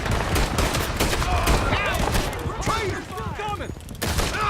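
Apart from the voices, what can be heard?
gunfire in video game Red Dead Redemption 2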